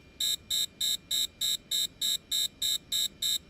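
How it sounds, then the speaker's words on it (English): An electronic alarm in Wasteland 3 blares in rapid, evenly pulsed high-pitched beeps, about three per second, loud and steady with nothing else over it. "Alarm blares and the feed cuts out."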